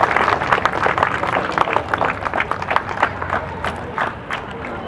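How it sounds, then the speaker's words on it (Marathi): A crowd applauds at an award felicitation ceremony, dense rapid clapping close and loud that gradually thins and fades, with some voices mixed in. "जरा जोरदार टाळ्या वाजवून द्यात."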